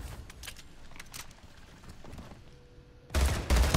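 Gunfire in the video game Splitgate plays over a busy game soundscape, ending in two loud, close bursts of rapid shots.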